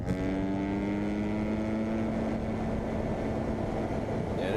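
A Suzuki RMZ 250F dirt bike engine drones continuously at a steady, buzzing pitch with heavy wind rush over the microphone, loud and rough throughout, no voices.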